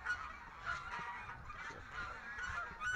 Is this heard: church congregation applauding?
no